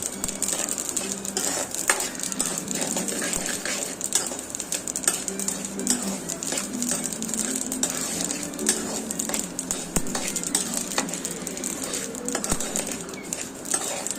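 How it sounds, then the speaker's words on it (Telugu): Sesame seeds dry-roasting in a pan, stirred steadily with a utensil, giving a continuous soft rustling scrape with occasional light clicks against the pan, moderately close throughout. "ఫస్ట్ మనం నువ్వులను దోరగా వేయించుకొని పక్కన పెట్టేసుకోవాలి"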